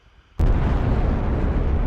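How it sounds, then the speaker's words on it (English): A sudden explosion sound effect bursts in after a short quiet lead-in and continues as a loud, dense, sustained roar. "I'm trying to put the explosion"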